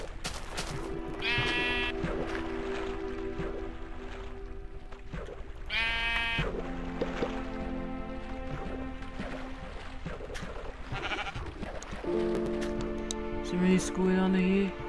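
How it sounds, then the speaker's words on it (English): Sheep in the Minecraft video game bleat in several separate calls, the first near the start and another around six seconds, over a steady bed of ambient game sounds. "Is that a brown sheep?"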